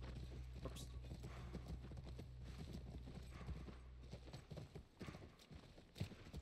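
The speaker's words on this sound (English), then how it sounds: "That's our horse." A horse walks with rhythmic clip-clopping hooves near a ranch in The Last of Us, a brief whinny cutting in, heard faintly in a quiet game scene.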